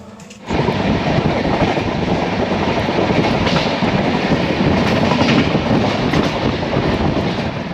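The Humsafar passenger train rumbles steadily along the rails between Varanasi and Sultanpur, loud and continuous after a brief quiet start, with a broad roaring wash of wheel and carriage noise.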